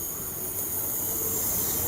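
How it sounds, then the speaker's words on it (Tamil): Hyderabad metro train at a double-decker station, a steady rolling rumble with a high hiss and faint wheel squeal, continuous and fairly close for a brief moment. "ஸோ டபுள் டெக்கர் மெட்ரோ ட்ரெயினுங்க இது."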